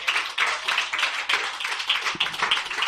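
A church congregation claps in praise to the Lord in rhythmic bursts, close and moderately loud, keeping a quick uneven beat.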